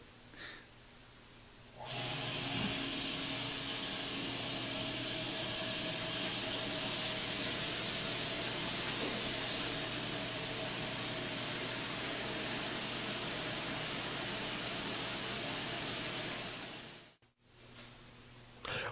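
Water sprays onto a wheel in a continuous, close, broadband hiss that holds steady for several seconds, then briefly drops out near the end.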